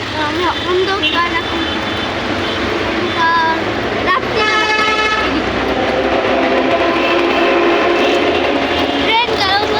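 A local train passes through Bidhannagar railway station with loud rumbling and clattering wheels, and a horn sounds partway through. Voices chatter in the background.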